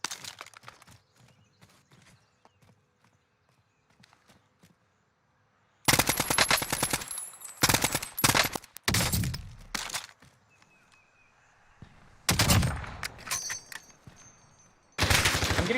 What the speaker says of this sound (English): I'm getting shot at by 2 players